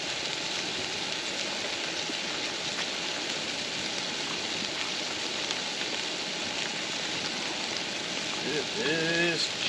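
Heavy fall rain pours steadily over a dispersed campsite in Weiser State Forest, a dense unbroken hiss close by, with a faint rising whistle-like tone appearing just before the end.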